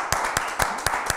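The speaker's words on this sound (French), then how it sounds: "il mérite un tonnerre d'applaudissements" A few people clap in sparse, evenly spaced claps on a TV studio set to welcome the show's official sponsor. The claps sound close and moderately loud.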